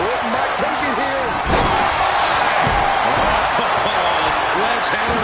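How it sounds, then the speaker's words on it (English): Heavy slams and impacts from a wrestling video game, a sledgehammer battering an opponent's midsection during a War Games match between Roman Reigns' team and Brock Lesnar's army, loud blows over a steady roaring crowd and commentary voices. "Sledgehammer to the midsection will knock the wind out"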